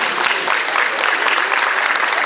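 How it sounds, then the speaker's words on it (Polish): An audience at an educational fair in Płock claps for the winner of a race, loud continuous applause from a crowd close by, with no pauses. "proszę o brawa"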